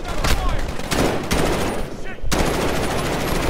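Automatic gunfire in the Call of Duty Modern Warfare campaign rattles in loud, rapid bursts, stopping briefly before a sustained stream resumes, with some voice in the mix.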